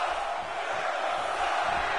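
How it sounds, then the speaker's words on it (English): A wrestling crowd in a San Antonio arena roars and chants steadily, a dense continuous wash of many voices filling the space. "There's a crowd here in San Antonio chanting Jericho sucks"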